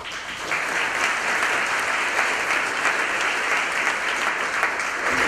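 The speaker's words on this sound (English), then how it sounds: "big applause to Shakir." Steady, dense applause from a lecture audience at a 2018 machine learning summer school in Madrid, welcoming a speaker; sustained clapping at even loudness from start to finish, with no voices over it.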